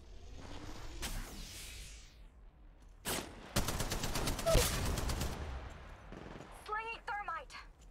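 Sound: gunfire in Apex Legends video game

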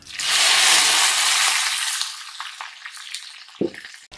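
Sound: cumin frying in hot oil in a wok

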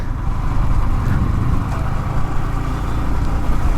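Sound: Yamaha FZS V1 motorcycle engine

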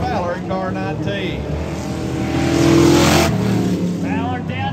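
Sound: race car engines on Harris Speedway, Toyota Avalon leading

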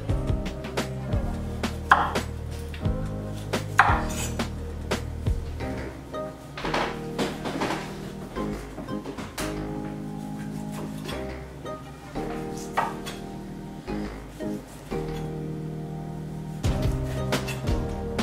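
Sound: chopping celery and fruit on a cutting board

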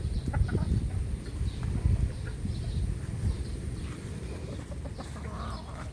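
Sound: chickens clucking while being fed

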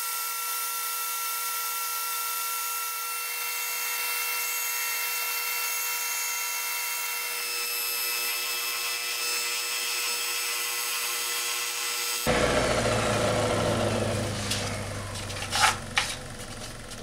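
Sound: sanding a repaired fan part

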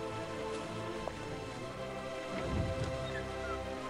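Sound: rain falling in video game Raison d'etre

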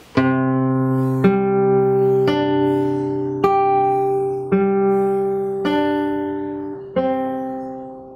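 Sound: guitar played fingerstyle slowly

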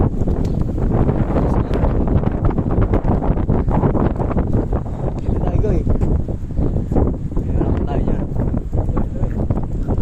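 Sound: wind blowing into microphone

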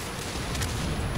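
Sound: tank cannon shot, from a video game

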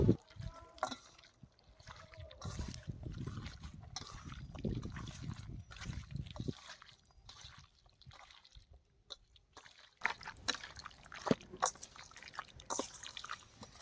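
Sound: mixing chicken with spices, mustard oil and yogurt by hand

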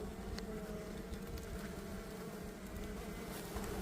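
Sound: honeybees buzzing around a hive water container

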